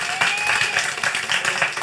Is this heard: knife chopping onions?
no